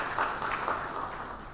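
Audience hand clapping for panelists at a county government policy launch, a soft, steady spread of many hands applauding, somewhat distant and fading slightly toward the end, with no talking over it.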